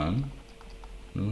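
Quick light keyboard clicks from typing code on a computer, a short soft burst of keystrokes between stretches of someone talking.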